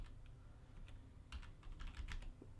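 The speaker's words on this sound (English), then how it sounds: "So I hit A on my keyboard" Typing on a computer keyboard, soft scattered key clicks at close range in a quiet room with no speech.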